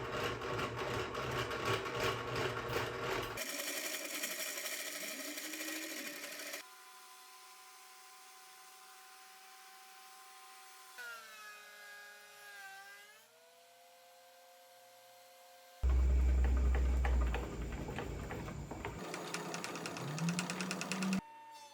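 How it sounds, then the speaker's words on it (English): A jointer flattens one face of Douglas fir scrap boards, its loud steady machine whine running in long bursts that stop and restart between passes. "I am going to run them through on my jointer first"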